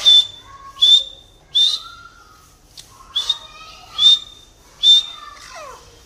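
A desi grey partridge (teetar) whistles loud, clear, rising calls in a steady repeated series of about seven notes, close by with quiet background between calls.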